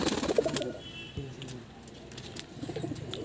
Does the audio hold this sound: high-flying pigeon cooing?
yes